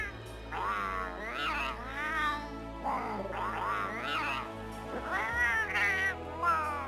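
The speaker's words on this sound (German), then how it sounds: "Katze braucht auch eine Stimme." Cat character voice from Monster Hunter World character creation: a few short, nasal meows in a row, separated by brief pauses, heard alone over a quiet low hum.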